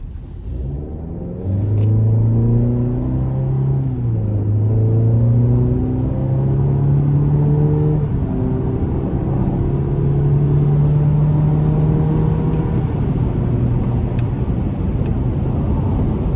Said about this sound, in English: Let's give it a pull here